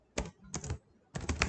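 Three short bursts of rapid key clicks on a computer keyboard while PHP code is typed, close and clear with brief pauses between bursts and no talk.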